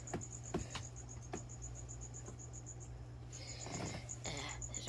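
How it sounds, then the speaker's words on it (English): A cricket loose indoors chirps in a steady high trill of evenly spaced pulses, fairly faint against a low background hum, with a few light taps and rustles. "There's a cricket loose."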